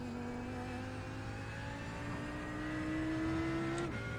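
An Audi R8 LMS at Spa in a racing simulator hums as a steady engine tone, its pitch climbing gradually before dropping sharply near the end at a gear change, with a faint whine above it.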